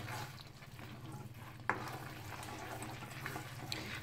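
Spices and chaat masala being stirred into dum aloo in a frying pan, a soft, steady scraping and sizzling with one sharper clink of the spoon, faint and close, with no talking.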